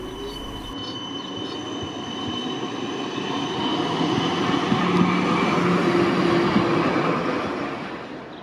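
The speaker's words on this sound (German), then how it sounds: "mit dieser Einfahrt der Bahn in die Einstiegshaltestelle am Ringelberg" An Erfurt tram pulls into the Ringelberg stop: rumbling wheels on rails with clicking joints and faint squeal, swelling louder as it comes close, then easing off near the end, with no voices.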